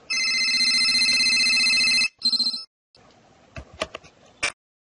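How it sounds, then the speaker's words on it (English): A telephone rings at home in an apartment: a loud, close electronic ring holds for about two seconds, then a shorter burst follows, and a few sharp handling clicks close out the clip. "The phone rings."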